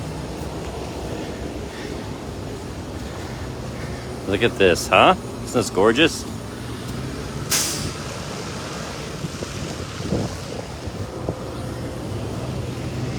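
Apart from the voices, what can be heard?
city bus passing on a snowy New York street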